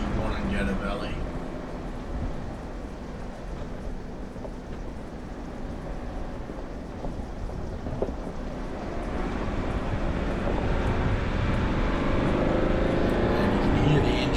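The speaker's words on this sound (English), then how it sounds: "you can hear the engine revving a little bit as it's picking up a little bit of speed, and the engine braking is holding that gear" A four-wheel-drive vehicle on a bush mountain track drones steadily, with its engine revving gently as it gathers speed and then holding back under engine braking, the rumble swelling slightly toward the end.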